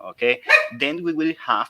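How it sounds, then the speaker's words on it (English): Household dogs give a few quick barks and yips close by during a speaker's online business talk, the barking tangled with his speech. "I'm sorry for my dogs"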